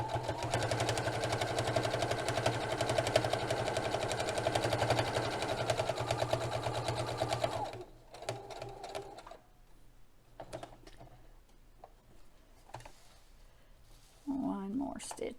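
A sewing machine stitches a potholder with a steady, loud mechanical whir for about eight seconds, then stops, leaving quieter handling sounds and a person speaking near the end.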